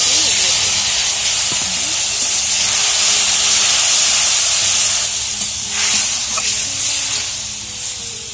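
Chopped garlic and green chilies frying in hot oil in a home kitchen, giving a steady, close, broadband sizzle and hiss that runs the whole time, with faint voices and small clatters underneath.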